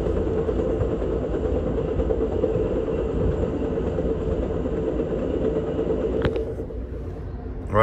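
Steady rumbling roar of a moving Amtrak California Zephyr passenger train heard from inside a sleeping car, constant and close, with a brief clank near the end, in Ruby Canyon, Colorado.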